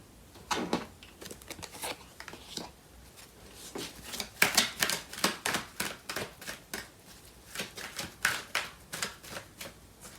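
Tarot cards being shuffled and drawn, heard as rapid riffling bursts and papery flicks close by, separated by pauses and uneven taps, with no voice over them.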